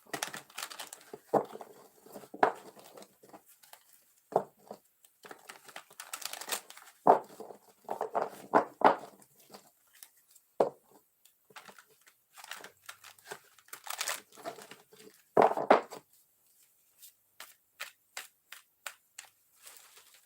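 Repeated soft riffling and crisp papery shuffles of tarot cards in short bursts, fairly close, with quiet pauses between handfuls of cards.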